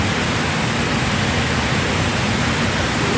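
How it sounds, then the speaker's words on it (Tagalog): Heavy rain pouring down, a loud, even roar of dense drops that fills the whole stretch without a break. "Oh, isang oras na ulan, babaha na yan."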